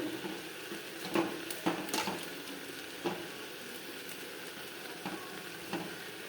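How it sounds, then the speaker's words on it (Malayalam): Food sizzles softly in a pan as it is stirred with salt, onion, tomato and green chilli, a low continuous frying hiss broken by several scraping clinks of the spoon. "എന്നിട്ടതൊന്ന് ഇളക്കി കൊടുത്തു."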